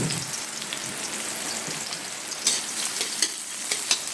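Garlic hits hot oil for ginataang papaya and puso ng saging, giving off a steady, close sizzle and crackle. Sharper pops and spits break in near the end.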